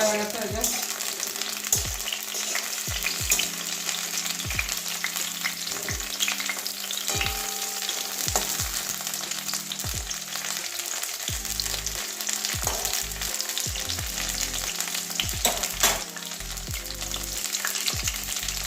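A close, loud, continuous sizzle of food frying in a pan for a soya chunk, potato and pointed gourd curry, broken by repeated clinks and scrapes of stirring, with no talking.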